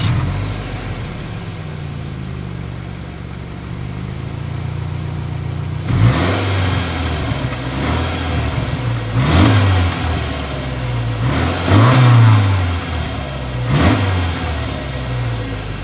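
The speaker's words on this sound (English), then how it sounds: "here is that exhaust clip" A 2021 Subaru Forester idles at its exhaust, then revs up sharply four times in succession, each rev rising and falling back, close and loud with no speech.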